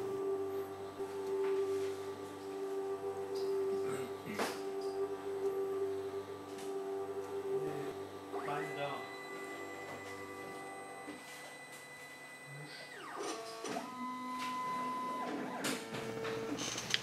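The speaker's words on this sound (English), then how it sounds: "After completing fine grinding, the machine will continue with polishing." A cross-section sample preparation machine for PCB microsections polishes after fine grinding, giving a steady mechanical hum with a sustained whine and a few rising and falling tonal sweeps, continuous and even throughout.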